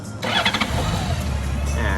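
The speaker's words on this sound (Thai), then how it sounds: "เดี๋ยวสตาร์ทให้ฟัง" A 2002 Honda Goldwing 1800 motorcycle engine cranks and catches, then settles into a steady, close idle rumble with a faint voice underneath.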